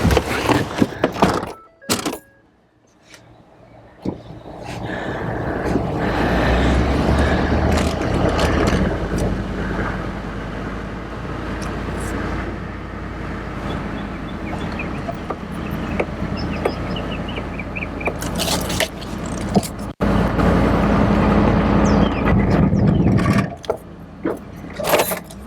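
A Ford Bronco engine runs under heavy load while pulling, a steady loud rumble that holds for many seconds, broken by knocks and thunks near the start and a sharp clunk later, with no talk over it.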